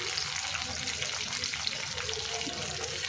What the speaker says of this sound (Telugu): కరివేపాకు, ఉల్లిగడ్డ చిట్టపట్ట అంటుంది కదా ఫ్రెండ్స్, చూడండి